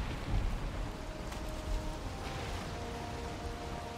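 In the Valheim video game, a thunderstorm pours steady rain, with low rumbles of thunder rolling beneath the constant hiss at a fairly quiet level and no voices.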